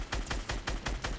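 Rapid gunfire in Fortnite: five evenly spaced, sharp shots about a fifth of a second apart, each with a crisp crack and a low thump, moderately quiet and heard alone.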